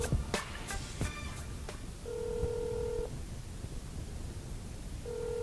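Telephone touch-tone dialing in an office, a quick run of short beeps followed by longer steady tones and pauses, quiet background hum, no talking.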